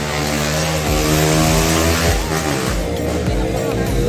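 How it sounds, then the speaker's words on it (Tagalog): Motorcycle engines rev loudly and close by during a Sunday group ride on the Old Zigzag road, rising and falling in pitch over several throttle bursts while people talk underneath. "Ingay ng mga motor nila, bakit ganun?"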